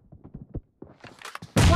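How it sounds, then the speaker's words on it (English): A weapon reloading in the BGMI mobile shooter game: a quick series of close mechanical clicks and thunks, ending in a loud, sudden burst. "Reloading."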